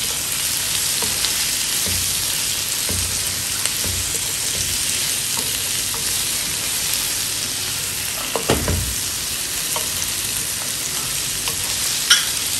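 Halved peppers sizzle steadily in a hot pan for a pollo sudado sauce. The hiss is loud and constant, broken by a few soft clunks and one sharper knock from a utensil.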